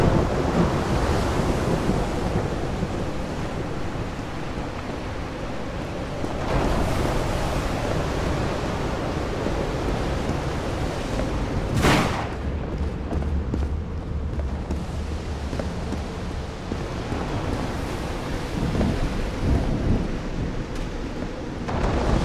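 A thunderstorm in the game Call of the Sea, with dense, steady rain and rumbling thunder and a sharp crack near the middle, loud and continuous.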